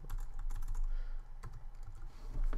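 Clicky keystrokes on a computer keyboard, a quick irregular run of close taps over a low steady hum.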